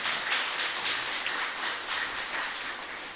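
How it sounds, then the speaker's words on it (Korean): Church congregation applauding to welcome the pastor to the pulpit, a steady dense wash of clapping that holds at an even level throughout, with no voices. "박수로 환영하시기 바랍니다."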